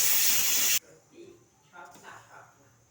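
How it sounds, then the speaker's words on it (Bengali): A pressure cooker of lauki dal made with matar dal lets out one loud, steady steam whistle that cuts off abruptly, leaving quieter kitchen sounds and faint talk. "ডালে সিটি মারছে, তিনটে হয়ে গেছে"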